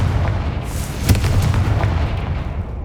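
The Confringo blasting spell goes off in the video game Hogwarts Legacy, a sharp booming explosion followed by rumbling crackles and debris pops over low game ambience.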